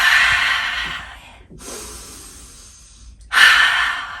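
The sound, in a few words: deep breathing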